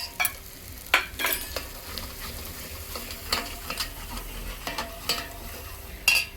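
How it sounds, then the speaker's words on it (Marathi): Masala for mutton curry sautés in a pan over a wood-fired stove, crackling with a steady sizzle while a spoon stirs and knocks against the metal in sharp, irregular clacks. "ते पण छान असं परतून घ्यायचं मस्त"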